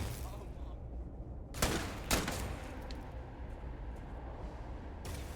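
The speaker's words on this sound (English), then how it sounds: "Why are you guys shooting me?" Video game gunfire from Starfield enemies shooting at the player: two sharp bursts stand out near the middle, with another shot toward the end, over a steady bed of game ambience.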